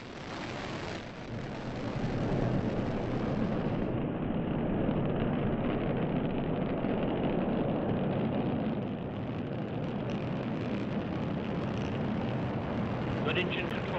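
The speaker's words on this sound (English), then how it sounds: "5, 4, 3, 2, 1. And liftoff at dawn. The dawn of Orion" Rocket liftoff launching the Orion spacecraft: a deep, continuous rumbling roar that swells after the first seconds and holds steady, heard from a distance, with a commentator's voice over it.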